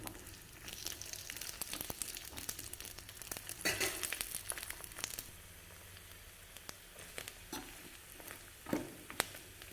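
Coconut pieces fry in a pan until golden for sweet pongal, a quiet steady sizzle with soft crackles and occasional stirring scrapes close by.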